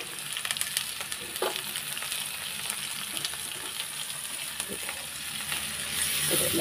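Food frying in a kadai, sizzling steadily with scraping stir strokes and occasional clinks, close and continuous with no talk.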